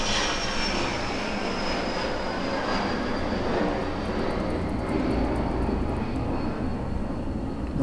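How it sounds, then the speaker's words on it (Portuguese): An airplane passes overhead with a broad, steady engine roar that fills the air evenly throughout, with no voices. "Passando um avião, gente."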